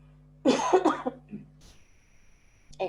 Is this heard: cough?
yes